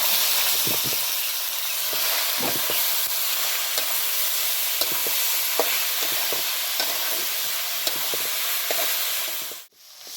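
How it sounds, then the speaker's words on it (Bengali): Betor greens fry in a pan with browned onion and garlic, a loud steady sizzle broken by frequent stirring scrapes and clicks, then a sudden drop near the end. "পেঁয়াজ রসুন ভালোভাবে করে লাল লাল করে ভেজে নিয়ে শাকটা দিয়ে।"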